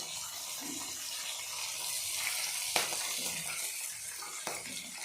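Fish frying in hot oil, a constant hissing sizzle broken by a few sharp pops and spatters, close and moderately loud, with no talking.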